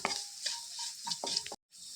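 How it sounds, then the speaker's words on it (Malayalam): A spoon stirs softened onions and sliced vegetables in a pan for peechinga (ridge gourd) mezhukkuperatti, a Kerala stir-fry. Several short scraping strokes sound with a soft sizzle, close and fairly quiet, then a brief drop to silence before the stirring resumes. "ഇതെല്ലാം ഇടുകയാണ് ഇനി നന്നായിട്ട് ഇളക്കി യോജിപ്പിക്കാം"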